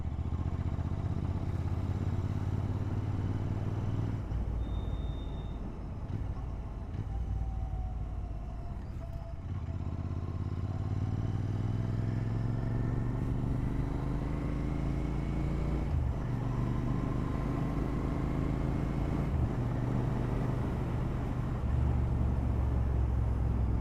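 Continental motorcycle with its fairing kit removed, cornering at around 70, a loud continuous engine drone with rising and falling pitch as the rider shifts and accelerates, under heavy wind rumble and with no talking.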